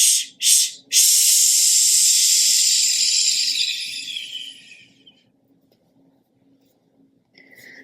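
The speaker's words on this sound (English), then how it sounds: "expel your breath in 4 short bursts, and then 1 long shh, letting the rest of your air out" A person expels breath in short, sharp hissing bursts followed by one long, fading shh, loud and close, with quiet room tone afterward.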